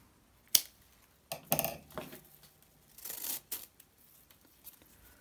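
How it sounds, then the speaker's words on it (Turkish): Scissors snip paper yarn for a crochet bag: a few crisp, close cuts with rustling in between, separated by quiet pauses. "Şimdi dikmek için bir miktar ip ayırıp ipi kesiyorum."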